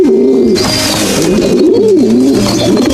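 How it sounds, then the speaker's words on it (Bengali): Pigeon cooing, a steady run of soft, throaty coos with a rolling, wavering rhythm, loud and close, alone without any talk. "পায়রা পায়রা"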